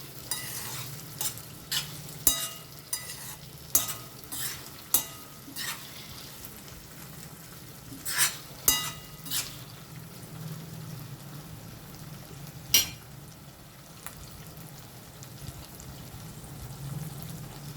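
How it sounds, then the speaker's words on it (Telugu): Telugu fish stew (chepala pulusu made with Apollo fish) simmers in a pot, giving sparse, irregular pops and bubbling clicks over a low steady hum, fairly close and with no talk. "ఇదిగోండి, ఇక్కడ మసులుతుంది కదా పులుసు అయితే"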